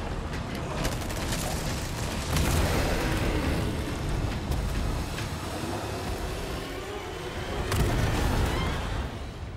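Gunfire and heavy impacts in Resident Evil 4, a dense, loud wash of shots and booming hits running throughout, with stronger bursts near the start and again toward the end.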